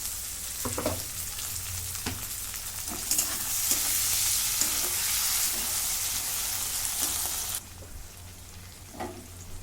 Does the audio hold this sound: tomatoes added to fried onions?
yes